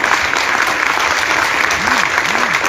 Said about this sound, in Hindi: एक बार शानदार फिर से ताली अपने लिए